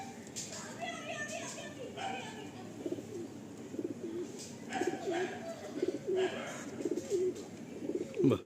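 Domestic fancy pigeons coo softly in repeated low calls at a pigeon seller's, with someone talking over them throughout at close range.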